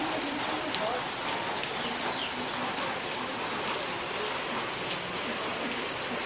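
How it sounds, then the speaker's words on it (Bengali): Heavy rain falls steadily on a waterlogged area with worms surfacing, a dense continuous patter close by with no pause and a faint voice now and then underneath. "কত বৃষ্টি হচ্ছে"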